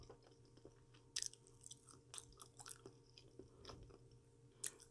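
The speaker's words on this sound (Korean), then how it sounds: "감자 먹어볼게요." Potato is chewed close up, with soft repeated munching and a few sharp crunchy bites over a quiet room hum.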